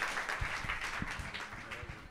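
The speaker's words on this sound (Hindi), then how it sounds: "ताली बजाएंगे प्रभु की महिमा के लिए।" Church congregation at a Sunday prayer service clapping for the glory of God, a short burst of steady, dense applause from a roomful of people, fairly loud and close, with a voice briefly heard over it.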